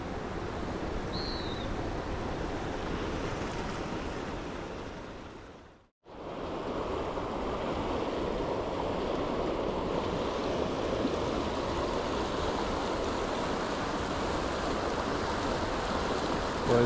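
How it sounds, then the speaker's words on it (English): A swift creek current rushes in a steady, dense wash of flowing water, heard close and continuous apart from a brief dropout partway through, with no voices. "This creek is either way too deep or the current is way too swift."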